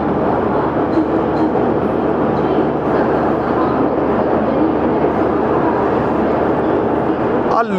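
A train at New Delhi railway station, a dense steady rumble of carriages and platform noise lasting several seconds, with people talking throughout and a dog barking faintly in the mix.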